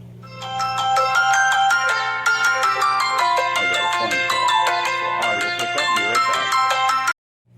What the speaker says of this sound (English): I'm recording with my phone and I got a phone call.